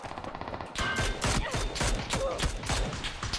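Gunfire in the battle royale game PUBG, a rapid burst of repeated shots after a brief quiet lead-in, sharp and fairly close over low game ambience.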